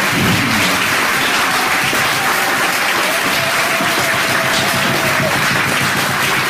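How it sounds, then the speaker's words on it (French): A church congregation at a French prayer service in Lyon applauds in a loud, sustained wash of clapping that stays even throughout. "Est-ce qu'on peut l'applaudir"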